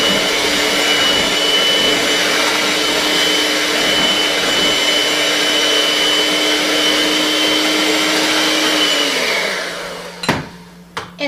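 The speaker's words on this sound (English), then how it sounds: "So I'm going to go ahead and give that a stir." Electric mixer whirring steadily through cupcake batter with vanilla and butter flavoring, a loud continuous motor drone that winds down near the end, followed by a few knocks.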